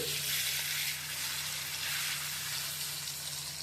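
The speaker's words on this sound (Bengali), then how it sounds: "আমি সব গাটিগুলো দিয়ে দিয়েছি তেলে" Taro pieces sizzling in hot oil in a pan after the tempering spices have fried, a loud, steady, close frying hiss with no talking.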